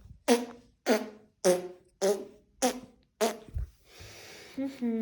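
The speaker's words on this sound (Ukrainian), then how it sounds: "Пукнули зараз." Six evenly spaced, buzzy fart sounds follow one another in a quick, regular rhythm, then a breathy hiss trails off at the end, all loud and close.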